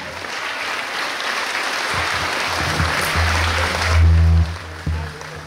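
Wedding guests applaud the bride and groom at the reception meal, a sustained round of clapping with a voice and a low boom near the end.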